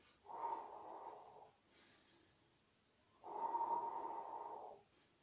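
Slow, rhythmic breathing in and out during a Pilates exercise, two long, soft breaths close up with a quiet pause between them.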